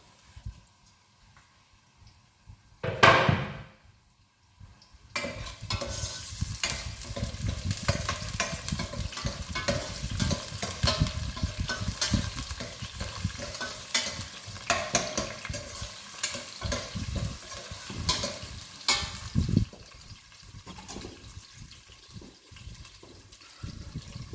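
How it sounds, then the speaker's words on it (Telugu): Green chillies, onion and curry leaves dropped into hot tempering oil: a sharp burst of crackle, then a continuous dense sizzle and spatter, close by with no talk. "పచ్చిమిర్చి ఆనియన్ తాలింపులు వేస్తున్నాను కరివేపాకు"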